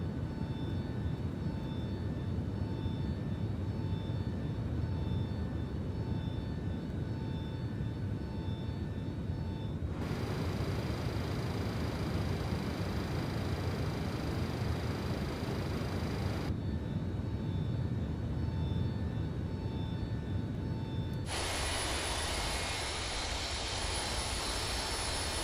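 Boeing 727 jet engines in a flight simulator during an early morning departure, a steady loud roar with whining tones that shifts character partway through, continuous and with no talk.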